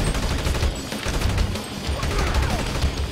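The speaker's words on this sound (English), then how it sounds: "It's just bullets." Gunfire from the video game GTA V Online during a special vehicle cargo mission: a dense, continuous burst of rapid shots and impacts running the whole moment, loud and close, with no talk over it.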